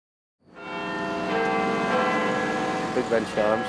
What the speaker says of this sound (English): Big Ben chimes.